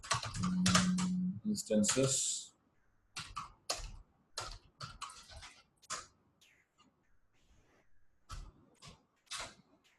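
Quick keystrokes on a computer keyboard enter a command, crisp clicks in irregular bursts that follow a stretch of talking at the start.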